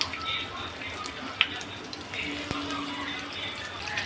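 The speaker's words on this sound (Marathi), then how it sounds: "थोडंसं असं ब्रेड क्रम्समध्ये घोळवून ह्याला हे करते जरा तेलामध्ये ते सोडते" Breadcrumb-coated prawns crackle and sizzle in a shallow pan of oil, a steady close hiss with occasional small pops and clicks.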